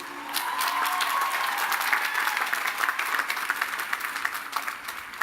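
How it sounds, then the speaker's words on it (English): Audience at the Lehman College 50th commencement ceremony in 2018 applauds graduates' families and friends, a dense, steady wash of many hands clapping that holds strongly throughout and tapers slightly at the end. "A big round of applause for them."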